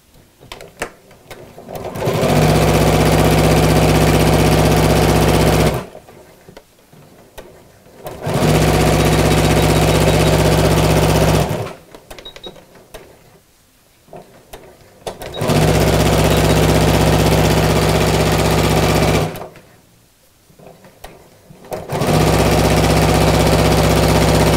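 A sewing machine stitches through the lining pieces of a fabric coat hanger cover, running loud and steady in four long bursts of several seconds each, with short quiet pauses between them and no talking.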